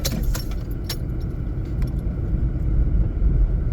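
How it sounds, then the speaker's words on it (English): Car keys jangle and clack in a few quick bursts near the start, over a steady low rumble of a car interior on a drive to and from work. "The clacking you heard was my keys."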